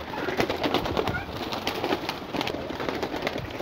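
A flock of mixed-breed red-eyed pigeons cooing continuously and close by, with overlapping soft throaty calls and some wing rustling and faint background noise.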